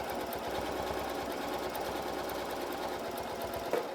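A Janome M8 sewing machine stitches steadily during free motion quilting, its fast, even motor hum and needle rattle running continuously and close up with no talking.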